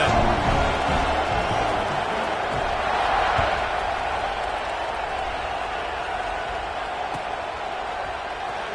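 Football stadium crowd before a kickoff, a broad steady roar of cheering and applause filling the space, loud and continuous with scattered whoops rising and falling.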